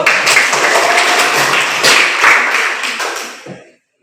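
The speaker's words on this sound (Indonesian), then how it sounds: "Tepuk tangan dulu" Students in a high school classroom in Raja Ampat clap their hands together in a brisk, lively burst of quick claps that carries for a few seconds, then cuts off abruptly.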